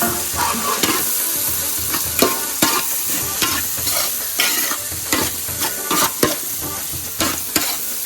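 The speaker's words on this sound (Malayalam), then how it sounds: "നമ്മുടെ സവാളയും തക്കാളിയൊക്കെ മൂത്ത് വന്നിട്ടുണ്ട്" Onions and tomatoes fry in a pan for kappa biriyani, a loud steady sizzle broken by repeated scraping stirs of a spatula, with no one talking.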